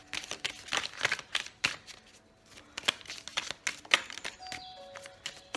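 A deck of tarot cards is shuffled by hand, producing crisp, rapid flicks and riffles in uneven bursts, with a few louder snaps as cards slip out, close and alone.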